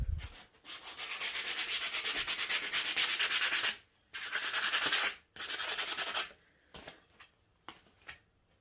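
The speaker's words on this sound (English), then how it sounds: "I like to sand things down over top of the trash can" Sandpaper scrubbing a small wooden craft piece over a trash can, long loud abrasive rasping strokes in a few sustained bursts, then shorter scrapes trailing off.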